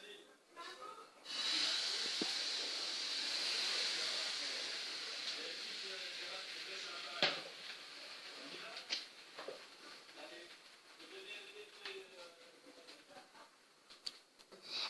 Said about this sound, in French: Versez la pâte dans votre poêle chaude.